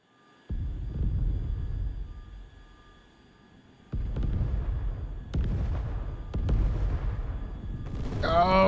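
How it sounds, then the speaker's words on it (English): A bomb dropped from an aircraft in the PC combat flight game Tiny Combat Arena bursts with a heavy low boom, followed by several more loud detonations and rumbling impacts over steady engine drone. "Okay, dropping a bomb."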